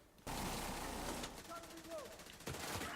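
Rapid automatic gunfire in The Division 2 video game, a dense loud burst of shots running almost the full length, with a brief whistling effect midway and a sharp final volley.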